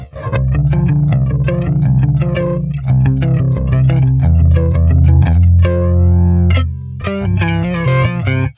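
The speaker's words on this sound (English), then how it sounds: "Let's change it to the flanger." Loud distorted electric guitar through a swirling, sweeping flanger, a busy run of notes with a short gap before the playing resumes.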